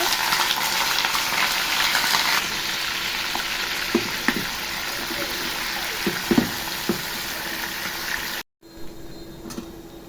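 Meat cooking in a pan gives a continuous loud sizzle and hiss, broken by a few clanks of stirring utensils before a brief cut to quieter sound near the end.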